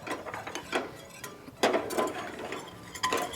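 Brisk metal whisk scraping and clicking against a pan as flour is worked into a blonde roux, in uneven rapid strokes heard up close without talk.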